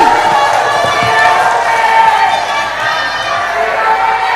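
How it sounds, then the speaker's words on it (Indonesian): A large debate audience at the 2024 Kuningan regional election public debate gives a sustained, loud wash of applause and cheering for the three candidate pairs, with voices mixed in throughout. "Kita berikan tepuk tangan yang meriah untuk ketiga pasangan calon."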